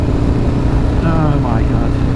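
An Aprilia Falco motorcycle accelerates hard in fourth gear, a loud, continuous engine drone dominated by wind rumble on the road, with a rising whine briefly cutting through near the end.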